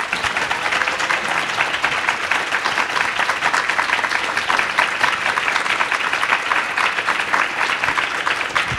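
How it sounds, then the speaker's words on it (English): An audience at a panel discussion on LGBTQ appointees applauds, a dense, steady wash of many hands clapping evenly throughout, fairly loud and continuous. "Can we have a round of applause for this incredible panel?"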